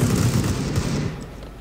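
A single Desert Eagle pistol shot in the video game CS:GO: one loud, sharp blast right at the start, fading into a short ringing tail with no talking.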